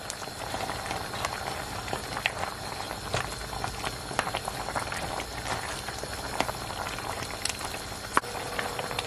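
Oxtail simmering in a pot of reducing liquid for Jamaican oxtail, a steady close bubbling and popping with occasional sharper pops, no voices.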